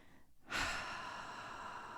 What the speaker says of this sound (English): Just your breath.